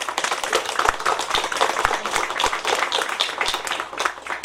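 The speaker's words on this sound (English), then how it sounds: "give a huge round of applause for the achievement we have achieved so far" An audience at a celebration of the fourth anniversary of the Section 377 judgement applauds, with steady, lively clapping that continues unbroken from start to finish at a close, even level.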